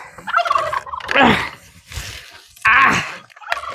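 A turkey gobbles on a farm, rattling calls in two loud bursts close by with quieter fowl sounds between, no talk over it.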